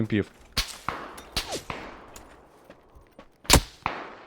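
Gunfire in an online shooter game: several sharp, loud shots crack out in separate bursts, with quieter shots and echoes in between.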